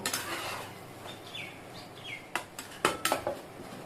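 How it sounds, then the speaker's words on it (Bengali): Metal clatter of a curry pot being covered with its lid and stirred with a spoon, faint scrapes at first, then a few sharp clinks near the end, with faint bird chirps in the background. "এবারে আমি এটাকে ঢেকে দেবো, তুলে নেব, একটু নাড়িয়ে দেব।"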